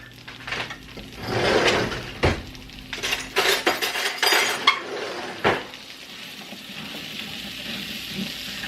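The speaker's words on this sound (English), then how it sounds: "we're going to carefully add, see how hot that is, our Brussels sprouts to the pan here" Brussels sprouts go into a hot pan with a little bacon grease and saute, bursts of sizzling with clinks and scrapes of utensils against the pan, close and moderately loud, easing into a steady low fry.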